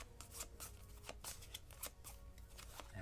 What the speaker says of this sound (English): There's only 5 of them, so we'll give them a little shuffle